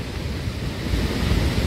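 A flooded river in Manali, near Vashisht, rushes across a road in a steady, loud, broadband roar of churning water with some wind buffeting on the microphone, and no talking.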